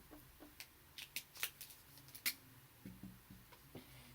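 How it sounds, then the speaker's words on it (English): Marker on a whiteboard being rubbed out during a fraction lesson: a string of short, light scrubbing strokes in an irregular rhythm, faint and close, with no one speaking. "let me erase that"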